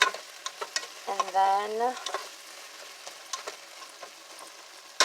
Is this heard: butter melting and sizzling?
yes